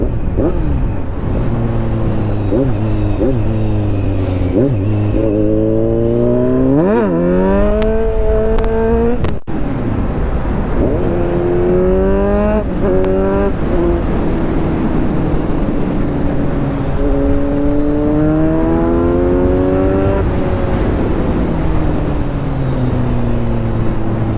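A loud motorcycle engine revs and accelerates repeatedly, pitch climbing through gear after gear, steady and close with no talking.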